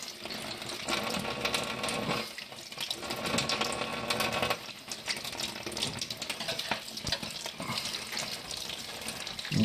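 A tap runs steadily into a sink, a continuous splashing gush with slight fluctuations, heard close and alone.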